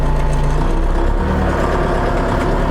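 A new DTZ 504 tractor's engine runs steadily in first gear of the high range, a loud, close, continuous low diesel rumble with no talk over it.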